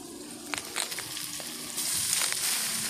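Tomatoes go into a hot buttered pan and set off a steady, close frying sizzle that grows louder and brighter partway through, with a few soft clinks of stirring.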